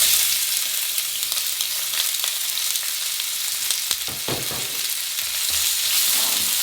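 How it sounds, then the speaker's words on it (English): Onion frying in a pan with two cloves and a handful of peppercorns, a steady broadband sizzle with a few louder crackles and pops near the end, no voices. "let's fry this onion for like 5 to 6 minutes"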